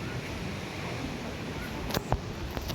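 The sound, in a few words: sea waves washing onto a beach in Salalah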